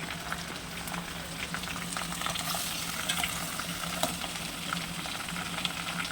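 Radish chutney ingredients, radish, radish leaves, tomatoes, onions and green chillies, cook in oil with a steady, close, continuous sizzle and light crackle, without speech.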